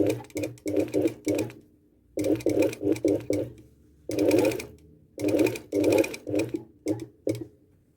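A sewing machine stitches a trouser seam in short bursts of rapid needle chatter, each run stopping and starting again with brief silences between, close and clear with no voices.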